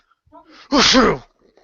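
One loud, close sneeze preceded by a brief intake of breath, standing alone in an otherwise quiet moment.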